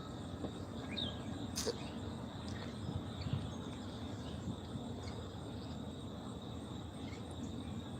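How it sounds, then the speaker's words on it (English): Crickets chirp outdoors in a quiet, faint steady trill, with a few soft bird calls scattered in the distance. "I hear the crickets"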